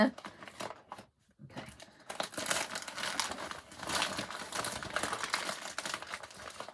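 A mail package is cut open with a blade, giving crinkling, rustling and tearing of packaging material with short scraping cuts. A person talks intermittently throughout.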